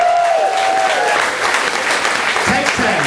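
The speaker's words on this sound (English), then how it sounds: "So, give a round of applause to Lydia and of course Leo" Audience applause at a university poetry slam, a steady wash of clapping filling the room with some cheering mixed in, loud and close throughout.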